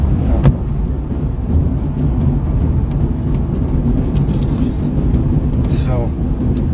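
Steady low road rumble fills a moving car's cabin while a person talks over it, with faint scattered clicks and rattles.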